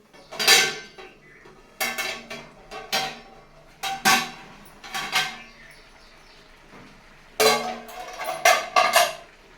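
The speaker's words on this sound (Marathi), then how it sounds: "आता ह्याच्यावर मी झाकण ठेवणार आहे" A series of sharp metallic clanks and rattles from a metal lid being set on a steel pot of masala with water, in separate bursts, close and clear, with no talking.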